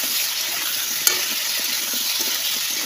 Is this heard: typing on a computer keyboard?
no